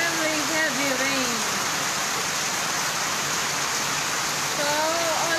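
Extremely heavy typhoon rain falling in Sorsogon City, a thick unbroken roar of downpour close by, with brief speech rising over it at the beginning and near the end.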